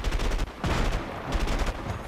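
Gunfire in the video game A Way Out, a rapid burst of several loud, sharp shots in quick succession within about two seconds, with no talking.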